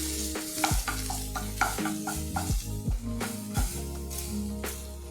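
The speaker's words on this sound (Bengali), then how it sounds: "এর জন্য আর খানিক চামচের আগায় একটু হলুদ দিয়ে আমি মশলাটাকে একটু কষিয়ে দিই" A spice paste of cumin, chilli powder and turmeric being stir-fried in a pan for chitol fish muitha: steady close scraping strokes of a spoon over a sizzle, with a tonal hum underneath.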